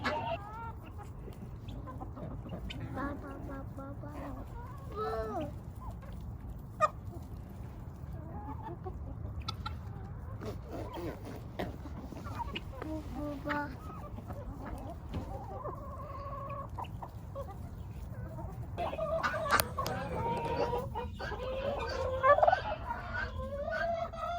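A big, aggressive homestead turkey gobbles among clucking chickens at feeding time outdoors, with repeated calls rising over a steady farmyard background and louder bursts near the end.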